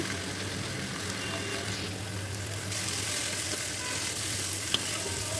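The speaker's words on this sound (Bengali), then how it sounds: "চিংড়ি মাছ হলুদ লবণ দিয়ে মাখিয়ে নিয়েছি এবং সেগুলোকে হালকা করে ভেজে" Prawns coated in turmeric and salt frying in oil in a kadai, a dense continuous sizzle that grows slightly louder midway, with a faint sharp tap near the end.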